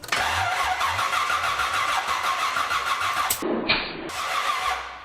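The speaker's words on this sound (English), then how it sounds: "Race car engine, straight out the headers." A 1975 Chevrolet Stingray race car engine starts through open headers, a loud raw cranking that catches into a rough, throbbing idle with a brief stumble and rev partway through.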